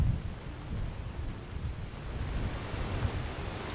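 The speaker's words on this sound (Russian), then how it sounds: "Во-первых, какого хрена дождь идет через крышу?" Steady rain in Skyrim falls in a dense, even hiss with a low rumbling undertone, continuous and moderately quiet, with no voices.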